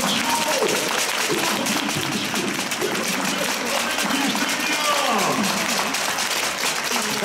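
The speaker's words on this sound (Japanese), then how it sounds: "皆さんにお届け大きな拍手を" Supporters clap and cheer across a football stadium at a J.League cup match between Sagan Tosu and Albirex Niigata, steady broadband applause throughout, with a voice cutting in over the crowd.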